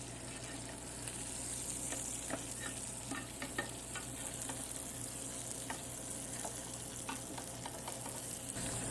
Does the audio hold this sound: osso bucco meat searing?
yes